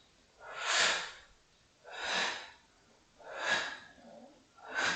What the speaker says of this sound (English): And if you want, you can breathe out.